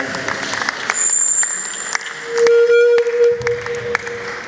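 A seminar audience in Enugu claps for a DJ, scattered hand claps running throughout beneath sustained electronic tones and brief bursts of louder noise.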